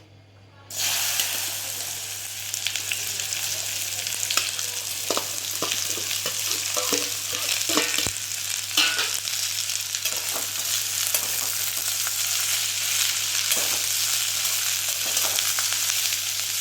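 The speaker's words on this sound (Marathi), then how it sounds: "आपल्याला ह्याच्यामध्ये पहिल्यांदा भेंडी फ्राय करून घ्यायचे" Okra sizzles steadily in hot oil for a masala bhindi dish, a dense continuous frying hiss with occasional stirring scrapes and clicks, close and fairly loud, starting abruptly after a brief quiet moment.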